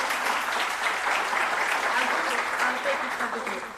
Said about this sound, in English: Then a special applause for her.